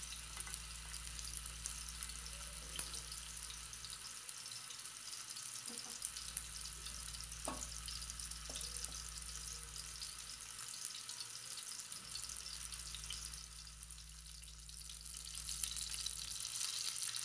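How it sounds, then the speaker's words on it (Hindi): Beef seekh kebabs frying on a tawa over medium-low flame, giving a steady, low sizzle that runs throughout with a faint background hum and a few soft clicks. "कबाब को हम मीडियम टू लो फ्लेम पे तकरीबन 4 से 5 मिनट तक एक साइड से अच्छी तरह से इनको फ्राई कर लेंगे"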